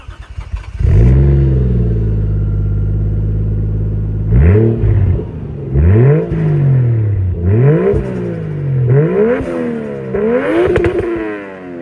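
Toyota Soarer Series 1 engine starting and idling, then revved repeatedly in a series of rising and falling blips, a loud, close exhaust note with no talking.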